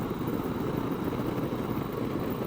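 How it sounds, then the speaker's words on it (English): A motorcycle with a 1700cc V-twin engine cruises at highway speed, its steady low drone mixed with wind rush, continuous and fairly loud. "1700cc V-twin engine,"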